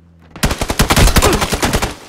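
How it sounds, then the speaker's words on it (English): Rapid Kar98k rifle fire in a PUBG match: a loud burst of sharp, closely spaced shots cracking in quick rhythm for about two seconds, with no voices. "I just got shot at by Kerr98"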